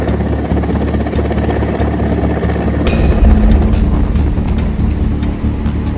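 An Indian Air Force Mi-17 helicopter hovers during a flood rescue, its steady loud rotor drone and engine whine filling the air continuously, swelling heavier midway with a low thumping beat and no voices.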